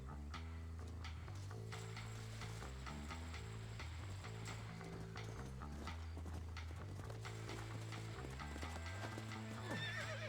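Horse hooves clip-clopping with a neigh in the Western video game Red Dead Redemption, heard under continuous loud game music with a steady rhythmic beat.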